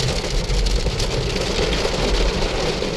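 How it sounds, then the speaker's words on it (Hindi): Heavy rain pours down steadily outdoors during a monsoon shower in India, a loud, dense hiss filling the whole stretch with a low rumble that may be traffic or an engine underneath. "ये देखो कितनी खतरनाक बारिश आ रही है।"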